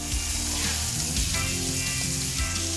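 Butter sizzles in a hot pan with a continuous crackling hiss, close and alone for a few seconds.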